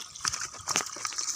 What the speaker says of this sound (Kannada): ನೋಡಿ ಬಿಸಿ ನೀರು ಬರ್ತಾಯಿದೆ, ಈಗ ಬರ್ತಾ ಇದೆ ಸ್ನೇಹಿತರೆ